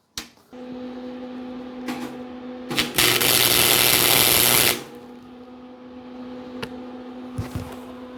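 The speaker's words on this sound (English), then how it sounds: "Clean off all this paint real quick" A power tool whirs loudly for about two seconds, stripping paint off bare metal on a 1956 Volkswagen Beetle oval ragtop, with faint workshop knocks and clatter before and after.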